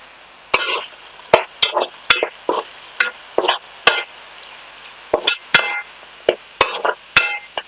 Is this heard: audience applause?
no